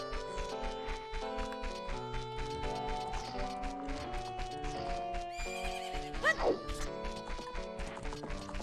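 Horse in Zelda: Ocarina of Time neighs once with a brief shrill whinny near the middle, over steady clip-clop hoofbeats and a melodic game soundtrack that plays throughout.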